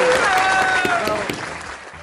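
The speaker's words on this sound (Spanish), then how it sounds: "por favor, un aplauso" Audience applause at a theatre-related event in Argentina, a short burst of clapping that fades slightly, with a voice speaking over it.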